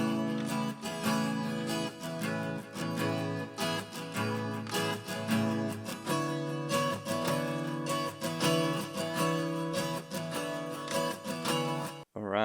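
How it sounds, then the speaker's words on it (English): An acoustic guitar plays a midwest emo passage in 4/4, with bright, rhythmic picked chords and melodic notes ringing clearly alone until it cuts off near the end. "So that acoustic guitar goes into a 4/4 section,"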